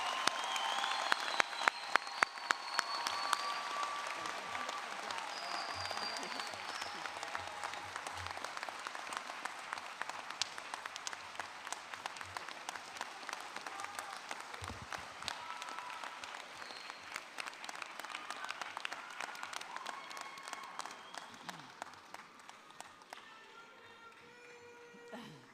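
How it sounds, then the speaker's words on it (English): A large audience at a dental school graduation convocation claps in sustained, dense applause that gradually thins and fades toward the end. "Give yourself a round of applause."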